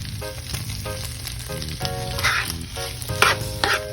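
Corn seasoned with black pepper, salt, sugar and cayenne fries in a pan with a loud close sizzle, broken by bursts of sharper crackling as it is stirred; no voices.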